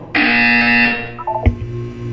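A loud, sustained electronic buzzer tone from a video game sounds for about a second, then cuts off, followed by a few brief beeps and a dull thud.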